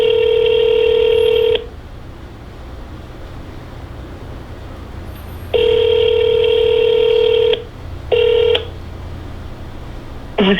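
A phone call to a client: steady dial tones repeat in long bursts separated by pauses, with a short final tone, loud and close with no talking.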